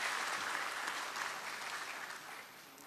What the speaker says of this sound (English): I request you all to give a big round of applause to Bombay Stock Exchange and Sri Ashish Kumar Chauhan ji.